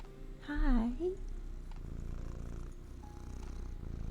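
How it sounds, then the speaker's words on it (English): A cat purrs steadily up close, a soft continuous rumble that carries on after a brief spoken remark from a person near the start. "You're so cute and purry."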